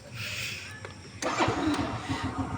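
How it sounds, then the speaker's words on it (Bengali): A motorcycle engine cranks briefly, then catches and settles into a steady, loud rumbling idle close by. "এরপরে আমরা বাইকটার স্টার্ট দিয়ে কিছু সাউন্ড মুভিং আপনাদেরকে দেখাই"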